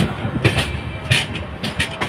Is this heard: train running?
yes